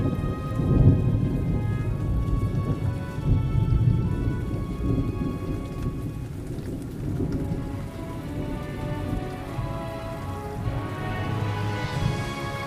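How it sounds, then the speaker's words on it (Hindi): A heavy thunderstorm at night over a forest: dense, steady rain pours throughout while low thunder rolls and rumbles underneath, loud and enveloping, with no voices. "एक रात जंगल में बहुत बड़ा तूफान आया।"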